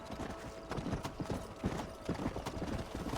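Quick rhythmic clip-clop of horse hooves at a brisk pace in Red Dead Redemption, close and fairly loud, with no speech.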